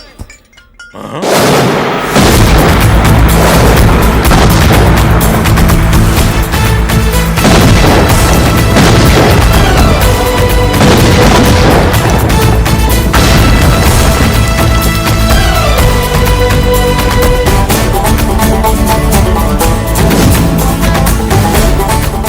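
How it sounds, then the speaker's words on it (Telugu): Bomb blasts from a fight scene in the Telugu film Veerabhadra, a loud sustained barrage of booms and crashes that fills the scene after a brief quiet opening, with music layered in. "బాంబులు ఆపుండ్రి"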